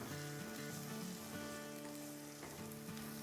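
Onions with a little salt softening in a karahi: a steady, dense sizzle that holds evenly for a few seconds, with faint sustained tones running underneath.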